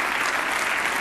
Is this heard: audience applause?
yes